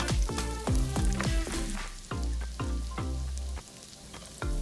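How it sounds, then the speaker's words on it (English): Garlic sizzling in olive oil and butter in a large sauté pan over medium-high heat, a steady close frying hiss with clattering, stirring-like taps throughout. "in a very large sauté pan over medium-high heat, add olive oil, 1 tablespoon of butter, then add the garlic"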